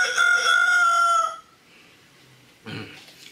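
A man imitates a rooster crowing with one loud, drawn-out, tonal cock-a-doodle-doo lasting over a second, followed by near silence and a short breathy sound.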